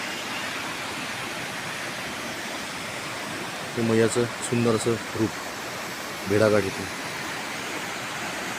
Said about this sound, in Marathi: असे पर्वत भेदत सुंदरशी नर्मदा दिवस रात्र अखंड वाहतेच